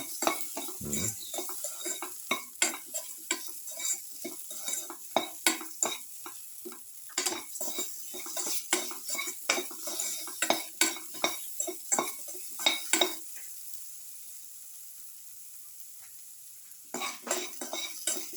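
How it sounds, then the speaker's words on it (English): Shallot chili dip sautéing in a pan, heard as a spoon or spatula scraping and clinking against the metal in steady stirring strokes over a faint sizzle, close up, then a quiet pause and a few more stirs. "put in salt to taste, sauteing, mix."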